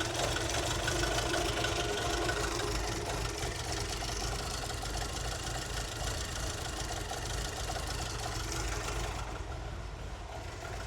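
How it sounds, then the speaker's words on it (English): A Ford XR3i cabriolet engine idles roughly and unevenly as if close to stalling, a steady low rumble that stays loud and close throughout with no talking. "It's not misfiring, it is literally just where it's about to cut out."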